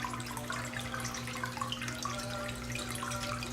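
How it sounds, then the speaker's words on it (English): Running water flows in a soft, continuous stream with a faint steady hum underneath, quiet and unbroken, with no voices. "I like this water."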